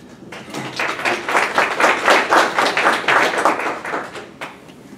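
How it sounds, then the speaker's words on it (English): A small indoor audience applauding for a few seconds, with dense clapping that swells and then tapers off. "I can't remember last time I had somebody applaud for me"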